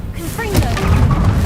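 A Confringo fire spell in the game Hogwarts Legacy lets off a short booming blast with a whooshing tail, heavy and close over a low rumble.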